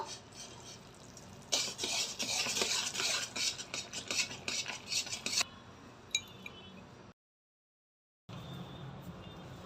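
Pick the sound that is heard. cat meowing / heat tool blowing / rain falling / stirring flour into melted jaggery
stirring flour into melted jaggery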